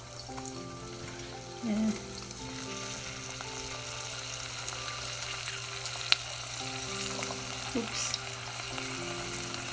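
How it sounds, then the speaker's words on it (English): Shrimp fry in hot oil for tempura, a steady close sizzle that runs throughout with small stirring clinks, while a person speaks briefly. "Okay, let's start putting our shrimp."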